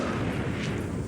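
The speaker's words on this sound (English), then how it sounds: "Wow, this explosion is intense." A huge explosion in Fallout 4, a dense, sustained roar filling the whole clip, loud and rumbling with no distinct separate blasts.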